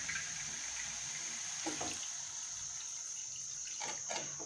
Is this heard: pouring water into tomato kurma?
yes